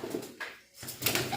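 Pigeons cooing inside a net cage, a few soft, low coos rising and falling close by across a short stretch, with a brief lull in the middle and no talking.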